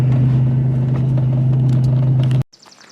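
An old Buick LeSabre engine idles with a steady low rumble and hum, close and loud, then cuts off abruptly near the end, leaving faint background noise.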